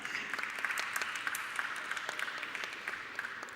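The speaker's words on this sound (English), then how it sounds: "A round of applause, nevertheless." Applause from an audience at a design awards event, faint and a little distant, a light patter of scattered clapping for a few seconds.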